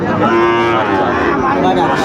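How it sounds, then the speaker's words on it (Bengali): A young bull calf moos loudly and close by at the Aftabganj cattle market in Dinajpur, one long, sustained low call that fills the whole moment. "ষাড় বাচ্চা দেখি একটু"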